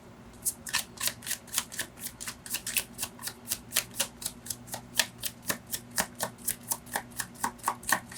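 Tarot cards are shuffled and drawn, producing a long, even series of crisp papery flicks and taps, close and fairly quiet, without speech.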